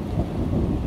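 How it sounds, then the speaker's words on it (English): Thunder rumbles low and continuous beneath steady rain during a lightning storm in south-east England, a dense, heavy wash of sound with no voices. "The lightning strikes have been unbelievably close."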